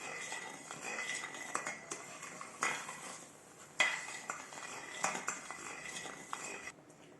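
A spoon scrapes and clinks against a pot while stirring suji halwa that is nearly done cooking, with steady scraping strokes and occasional sharper knocks, fairly close and moderately quiet, with no voices.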